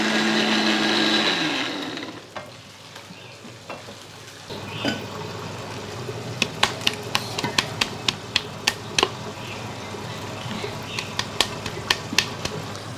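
A kitchen blender whirs loudly for about two seconds and cuts off, followed by quieter kitchen handling and a series of sharp clicks and taps.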